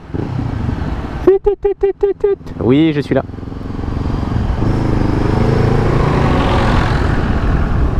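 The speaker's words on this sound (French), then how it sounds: "Alors ça c'est du 4 cylindres les mecs." Honda CB500F four-cylinder motorcycle engine from 2014, a sharp burst of rhythmic revs and a rising blip close by, then a steady idle rumble carrying on, with brief talk before it.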